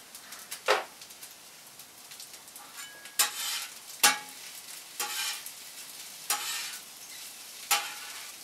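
Garlic sizzles in a hot pan under a soft frying hiss, broken by a handful of sharp stirring scrapes and clacks spaced a second or so apart, close by.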